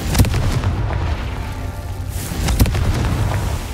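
The Confringo explosive spell in the Hogwarts Legacy video game goes off over a loud, continuous rumble, with two sharp booming blasts a couple of seconds apart.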